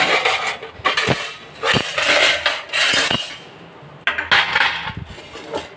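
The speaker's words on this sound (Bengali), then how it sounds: "বাসন মাজো, আবার গোছাও" Dishes, pots and metal utensils are handled while being washed and stacked, producing close, irregular clanks and clinks of steel against steel over a running wash, with no talking.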